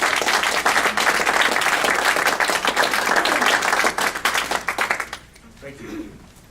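Audience applause at a South Dakota Hall of Fame press conference honoring prior inductees, dense clapping from a room of people that holds steady, then thins and fades near the end as a voice begins.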